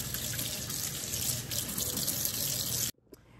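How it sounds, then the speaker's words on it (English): Tap water runs steadily into a sink to rinse foam away, a close, loud, continuous gushing that stops abruptly near the end, leaving a few faint drips. "All right, now rinse the remaining foam"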